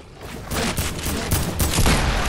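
Gunfire in an online shooter game during a sniper headshot, a dense crackling volley of shots and bursts running loud and continuous across the whole moment.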